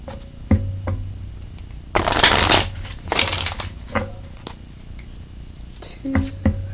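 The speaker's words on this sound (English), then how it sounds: "Three more shuffles." A deck of tarot cards is shuffled in a few quick riffling bursts, close and fairly loud, separated by quieter pauses with light handling noises and no talking.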